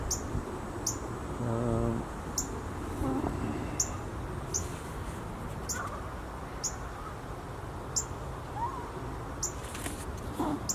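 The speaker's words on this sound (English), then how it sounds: "still occasionally making whistling calls" Cooper's hawk fledglings roosting in pine trees in early evening give thin, high whistling calls repeated at regular intervals, faint against a steady outdoor background hiss with some other soft bird chirps.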